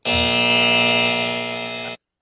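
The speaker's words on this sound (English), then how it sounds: "I got to hit the buzzer on you, David Draymond." A game-show style buzzer is hit, giving a single loud, steady electronic drone that lasts about two seconds and then cuts off sharply.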